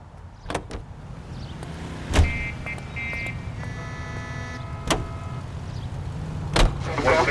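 Interior of a car in the video game L.A. Noire, with a steady low engine rumble under several sharp thumps and clicks, plus a run of electronic beeping tones in the middle.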